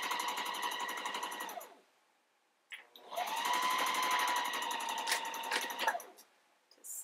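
Sewing machine backstitching a cloth diaper pod, two close bursts of rapid mechanical stitching separated by a short pause, the second run longer and ending in a few stops.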